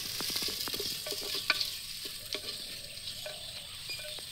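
Onions frying with salt in a clay handi in a village kitchen, a quiet steady sizzle with frequent light scraping and clicking stir strokes, close and faint.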